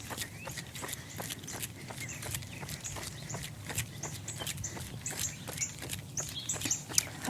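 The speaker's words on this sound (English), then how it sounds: "I hear birds." Small birds chirp faintly and intermittently in the background over a steady patter of running footsteps close by.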